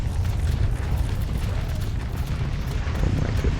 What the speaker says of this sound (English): Fire the great cannon.